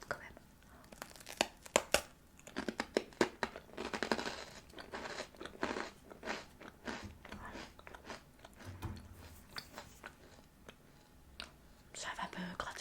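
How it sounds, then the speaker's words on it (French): Soft, close crunching bites into a dry rusk (biscotte) in a quiet ASMR setting, crisp irregular crackles and crinkles scattered over several seconds with faint whispering mixed in. "Je vais croquer ma biscotte quand même."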